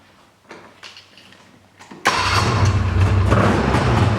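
A snowmobile engine running on months-old bad gas: after quiet, faint knocks, it catches abruptly and settles into a loud, steady mid-pitched running drone with a slight rough wobble.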